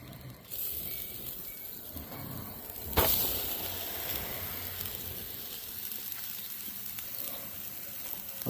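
A ribeye steak sizzles on a grill as a steady, quiet hiss that swells slightly after a sharp crackle burst near the middle, then holds low and constant, close by.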